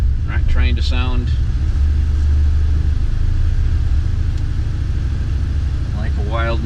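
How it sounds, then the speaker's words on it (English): Ford Focus RS with an MRT cat-back performance exhaust in sport mode, a steady low engine rumble throughout, loud and close, with a voice speaking briefly at the start and again near the end. "we're going to get a little bit more attitude in the exhaust, which we'll hear here in a minute"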